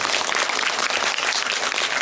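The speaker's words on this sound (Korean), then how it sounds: "박수 한번 치시죠" Dense, steady applause from a theatre audience at an actor's talk event, many hands clapping continuously at even loudness throughout, with no voices standing out.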